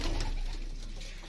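Pigeons of an Indian breed, including teddy pigeons, in a breeding loft, giving a soft, continuous low cooing and murmuring close by with no talk over it.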